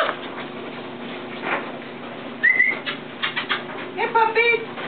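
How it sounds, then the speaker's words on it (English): Dog barking among puppies, a few short yelps and whimpery calls at moderate distance, mixed with people talking and chattering nearby. "And that is Elvis doing the barking"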